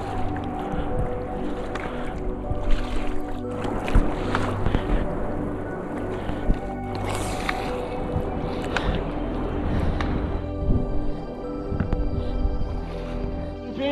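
A handmade raft paddled out on open water, with steady splashing paddle strokes and water sloshing over a constant roar of wind against the microphone.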